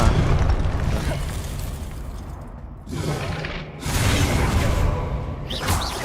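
Confringo fire-blast spell explosions in Hogwarts Legacy: loud, full-range booms and bursts arrive in waves, a heavy one at the opening, another near the three-second mark, then a sustained rumbling blast with a whooshing tail near the end.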